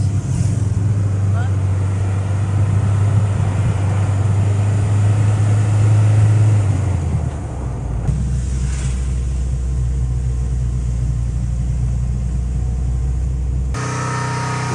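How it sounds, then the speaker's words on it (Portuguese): A car descends a steep mountain road in gear with the brakes applied, its engine giving a loud continuous low drone and rumble that drops in pitch partway through, close inside the cabin. "O Rô tá descendo engrenado, mas pisando no freio também, não tem jeito"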